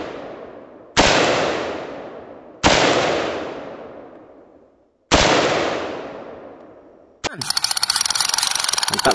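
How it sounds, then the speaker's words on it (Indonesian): Three loud, sharp toy gun blasts ring out with decaying echoes, followed by a rapid buzzing burst of repeated electronic shots. "Yang ini tembak-tembakan tuh teman."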